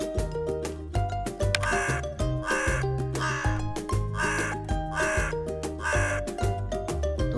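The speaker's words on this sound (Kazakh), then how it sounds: "қарға" A crow caws in repeated harsh, evenly spaced bursts, loud and close over a running musical backing track.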